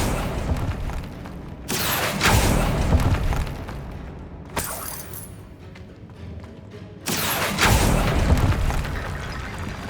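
Confringo fire spell blasts in the video game Hogwarts Legacy, set in a tomb: deep booming explosions swell twice amid a rumbling, eerie background, loud and heavy, with no speech.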